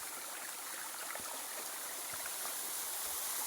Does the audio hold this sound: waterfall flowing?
yes